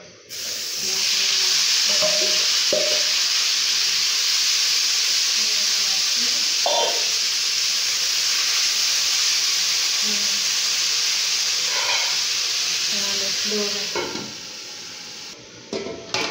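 Onions marinated with pepper, garlic, chives, bell pepper, mustard, salt and lemon juice fry loudly for a sauce, a steady close sizzle with occasional stirring clatters, fading near the end.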